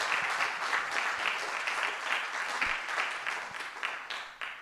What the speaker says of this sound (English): it's another round of applause so she can see it